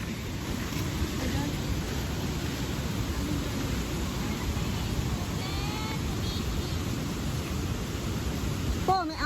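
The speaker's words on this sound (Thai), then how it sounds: "เอ้าฝนตก" Rain falls steadily as a broad hiss on a rainy-season day trip to a waterfall, filling the whole stretch with even noise while faint voices come through underneath.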